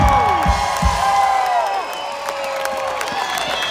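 A live amphitheatre crowd at a country concert claps and cheers for the band, a broad roar with whoops that swells then gradually fades over a few seconds.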